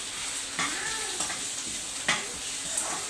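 Spices for a tempering sizzling and crackling in hot oil in a pan, a steady close frying hiss with a few louder pops and stirring clinks, no talking.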